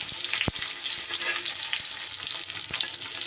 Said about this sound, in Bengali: আলু আর পটল একটু বেশি সময় লাগে ভাজতে, তাই আলু আর পটলটা সবার প্রথমে আমি দিলাম